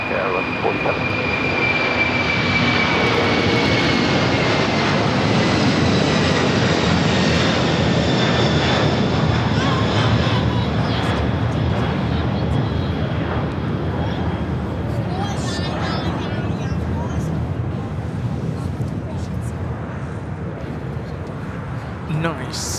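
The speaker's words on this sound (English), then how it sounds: "7552 taking off to Honolulu" Airliner, a heavy jet bound for Honolulu, takes off from runway 25 right at LAX, a loud continuous engine roar that holds steady and slowly fades over about twenty seconds, with radio-style talk heard beneath it.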